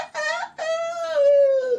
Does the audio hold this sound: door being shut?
no